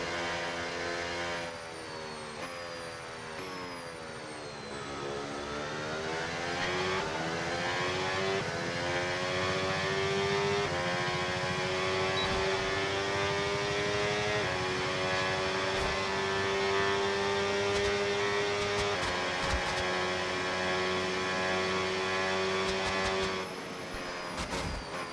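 A Formula 1 car on an easy out-lap in the F1 25 video game gives a steady, close, high engine whine. Pitch dips and climbs with gear changes and throttle, then holds a sustained drone with no talking.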